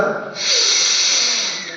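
A long, deep inhale through the nose and mouth before chanting Om at a yoga teacher certificate ceremony, a steady breathy rush that swells and holds close to the mic.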